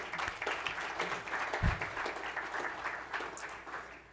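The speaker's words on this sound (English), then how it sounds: "And Rob Lycan also deserves some applause." A seated audience applauds at a BU event honoring staff, moderate steady clapping with a brief low thump partway through and no voices.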